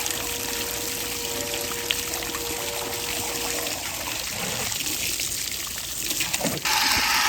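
Steady running water rinses a freshly butchered Kunekune piglet carcass outdoors, a continuous close hiss and splash with a slight shift in flow near the end and no talking.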